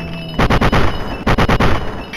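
Rapid bursts of gunfire in the video game Fallout 3, Operation Anchorage: two loud clusters of closely spaced shots with a brief gap between them.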